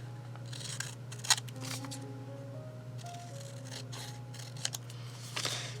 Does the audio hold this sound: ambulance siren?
no